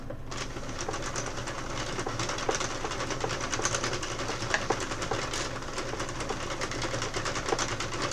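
Knitting machine running steadily with sock yarn, its carriage producing a dense, continuous rattling clatter with fine rhythmic ticks, close and fairly loud throughout.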